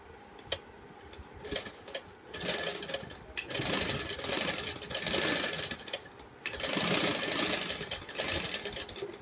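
A sewing machine stitches a small Krishna doll dress in short bursts of rapid mechanical whirring, stopping and starting several times, close and fairly loud.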